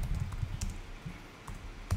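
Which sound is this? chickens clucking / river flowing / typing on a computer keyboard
typing on a computer keyboard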